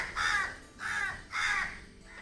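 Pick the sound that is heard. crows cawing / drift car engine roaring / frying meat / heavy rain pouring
crows cawing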